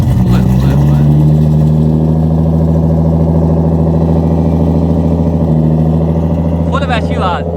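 A tuned Toyota JZX100 engine rumbles loudly and steadily up close, holding a deep idle with slight revving throughout, a brief higher whine near the end.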